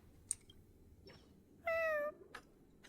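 A cat in a video game gives one clear, short meow in a quiet scene, preceded by faint clicks and followed by a soft trailing sound, no talking.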